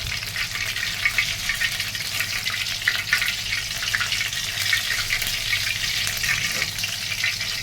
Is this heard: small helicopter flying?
no